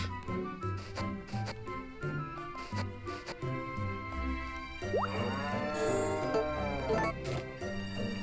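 Cartoonish cow moos from the Harvest Moon 3D farming game, a few drawn-out lowing calls rising and falling over cheerful background music with chiming notes, steady and fairly loud.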